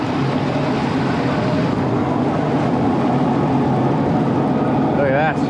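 A boat engine running in gear pushes sideways into strong flood current on the flooded Nepean River, a loud steady drone mixed with rushing water and wind noise, with people talking over it.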